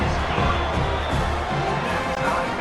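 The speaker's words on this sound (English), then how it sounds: "this crowd is feeling themselves after that last drive" A stadium crowd roars steadily in College Football 26 during an FIU versus UL Monroe game, a dense continuous cheer after a scoring drive that stays loud from start to finish.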